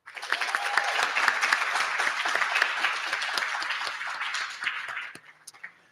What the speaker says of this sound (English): Let's also give a round of applause